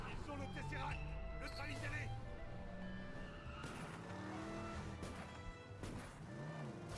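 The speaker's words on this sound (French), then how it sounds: "une course-poursuite bien stylée s'ensuit" A stylish car chase in the Lego Avengers video game, with engines roaring, tires squealing and crashes booming, loud and continuous under layered game effects and music.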